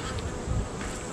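Feral honeybees from a fallen tree colony being removed: a close, steady buzzing swarm drones continuously through the short moment, with no talk.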